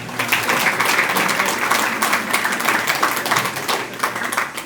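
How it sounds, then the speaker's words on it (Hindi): Audience applause in a Hindi spiritual discourse hall, a dense, steady wash of many hands clapping at once, loud and sustained throughout with no voices over it. "ताली किस पर बजाई आपने?"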